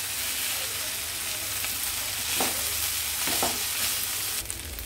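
Chicken noodles with dark sauce stir-fried in a pan, a steady bright sizzle with a few scraping stirs of the spatula, close and alone.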